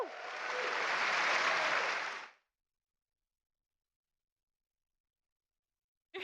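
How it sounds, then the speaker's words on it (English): Applause from a conference audience welcoming a speaker, a loud burst of clapping for about two seconds that then cuts to silence, with a brief sound returning at the very end. "with a nice, great big applause, let's welcome Mel Kaulfuss"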